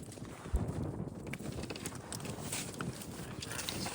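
Steady wind buffets the microphone on a fishing boat in the South Carolina Low Country, a continuous broadband rush with one sharp low thump early on and no talking.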